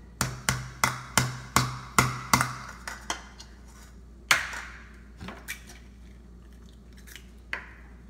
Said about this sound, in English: beat the egg.